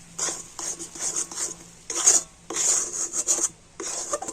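A pitha mixture for Gopalganj-style takti pitha is scraped and stirred in a pan over a low flame, giving repeated rasping strokes in short bursts with brief pauses, close and moderately loud, with no talking.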